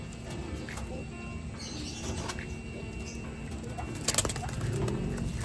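Pigeons coo softly and repeatedly inside a breeding loft, faint low calls over a steady background hum, with a few sharper flutters and bumps toward the end.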